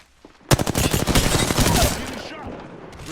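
Rapid burst of automatic gunfire in the video game Apex Legends, a dense string of loud close shots lasting about a second and a half, then fading into quieter game noise.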